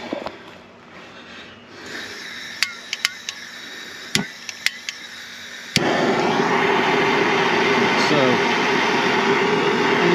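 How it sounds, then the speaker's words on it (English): A torch is used to heat thick plastic on a 1990 Ford Bronco. A few sharp clicks and ticks over a low background give way to a steady, loud, close roar as the flame runs on. "So I'm gonna heat it with a torch and just pull it away."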